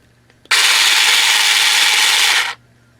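An EVEAGE light-duty cordless hedge trimmer runs alone for about two seconds, a loud, steady electric buzz with reciprocating blades that starts and stops abruptly, close to the microphone.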